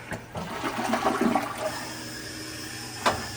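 A toilet flushes in a small hotel bathroom, a rushing, gurgling swirl of water that rises, then drains away steadily, heard up close with no talking.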